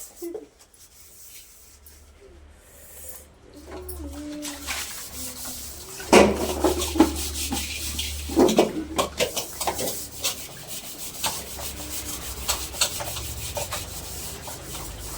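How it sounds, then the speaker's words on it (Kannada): Dishes being scrubbed and washed at home, with repeated rubbing and scraping strokes, clatters of vessels, and a low background hum, close and fairly loud with a faint voice early on. "ಅಮ್ಮ ಕಷ್ಟ ಪಡ್ಕೊಂಡು ಪಾತ್ರೆ ತೊಳಿತಾ ಇದ್ರೆ"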